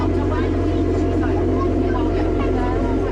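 A sea tractor's engine runs with a loud, constant drone throughout, steady and close, with a low throbbing hum and some voices faintly underneath.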